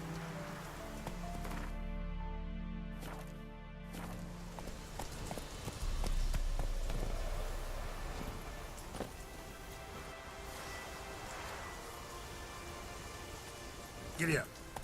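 A horse gallops in the video game The Witcher 3, its hoofbeats drumming under game ambience and a spoken line, with a clear hoof clatter near the end.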